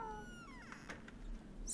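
Cats meowing at a door indoors, with rising and falling meows over a faint scratchy background, fairly quiet and close.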